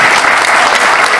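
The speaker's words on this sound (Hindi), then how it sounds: "एक दफ़ा इनकी फैमिली को एक वो तालियाँ दें" Loud, dense applause from an audience at a gathering in Punjab, honoring a family, a steady unbroken roar of clapping filling the whole moment with no voices over it.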